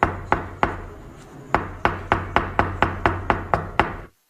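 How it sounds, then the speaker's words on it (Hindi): Knocking on a hotel room door around 1 a.m.: a close, loud series of about a dozen sharp wooden raps, evenly paced, with no voices. "रात को करीब 1 बजे होटल के दरवाजे पर दस्तक हुई।"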